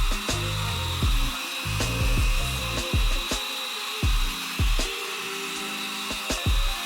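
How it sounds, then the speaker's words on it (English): A hair dryer blows steadily on a wig cap during an at-home curly quickweave install, a continuous close whir broken by repeated knocks and handling clatter as the dryer is moved around. "now we're gonna blow dry"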